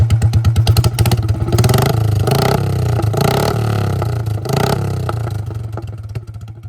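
A Royal Enfield Bullet motorcycle engine idles close by with a deep, steady thumping beat, the rhythm shifting briefly as the throttle is blipped.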